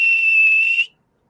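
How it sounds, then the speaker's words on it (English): A person whistles one clear, steady, sustained tone at close range, holding it for nearly a second before it stops abruptly into silence. "Like, you whistle, now I'll do it."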